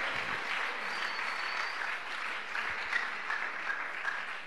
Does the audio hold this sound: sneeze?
no